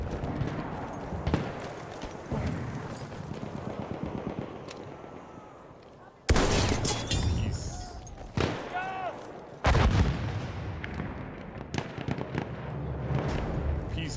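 Sharp sniper rifle shots in Battlefield 1 multiplayer, a few loud cracks separated by several seconds, with busy battlefield noise and distant firing around them.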